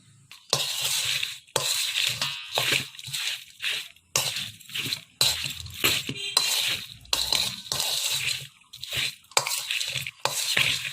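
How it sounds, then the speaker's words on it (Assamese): Raw mango pickle is mixed with vinegar in a rhythmic series of wet, squelching stirs, about a dozen strokes with short pauses between them, close and fairly loud with no voices. "এনেদৰে গোটেইখিনি আকৌ এবাৰ মই ভালদৰে মিক্স কৰি দিছোঁ।"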